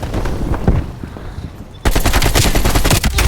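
Automatic gunfire in Call of Duty Black Ops Cold War: dense bursts of rapid shots, softer and scattered at first, then a sudden louder sustained stream of fire that runs to the end.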